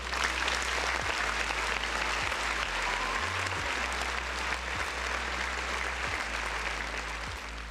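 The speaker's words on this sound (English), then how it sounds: "I gotta give Paris another round of applause" Sustained applause from an audience rolls on steadily for the whole stretch, a dense, even wash of clapping without any voices on top.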